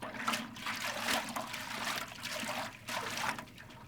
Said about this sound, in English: Where did I put that water bucket?